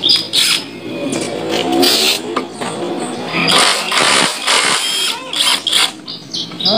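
A cheap cordless impact wrench, used on motorcycle bolts, runs in loud bursts of high buzzing and rattling hammering, starting and stopping several times close by.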